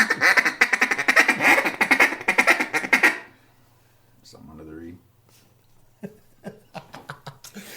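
A waterfowl guide blows a duck call in a loud, rapid series of rhythmic quacks for about three seconds, then quiet talk and light clicks follow.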